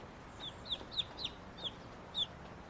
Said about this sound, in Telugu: కోడి పిల్ల ఉందా ఇక్కడ?